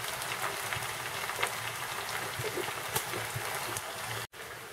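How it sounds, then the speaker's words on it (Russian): Potatoes frying in a pan, with chicken cutlets and vegetables being cooked alongside, give a steady dense sizzle and crackle that holds evenly throughout with no voices, then a very short dropout near the end. "Пока жарится картошка"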